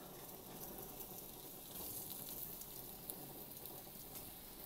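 Bacon sizzling on an outdoor grill, a steady dense crackle and hiss at moderate level, continuous and fairly close with no voices.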